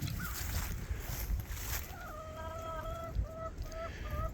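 Chickens clucking and calling around a coop that is under construction, with short repeated tonal calls over steady outdoor background noise.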